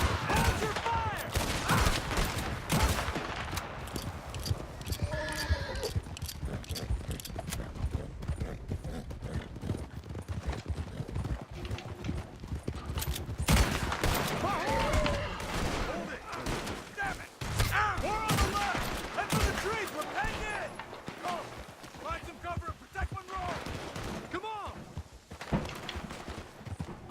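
Gunfire rattles through a Red Dead Redemption 2 shootout, with dense bursts and single shots mixed with horse hooves and shouting voices, loud and continuous for the whole stretch.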